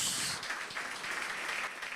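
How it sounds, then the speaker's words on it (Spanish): Church congregation clapping during a radio-broadcast worship service, a soft, distant wash of many hands that fades slightly at the start and then holds steady. "Con un fuerte aplauso"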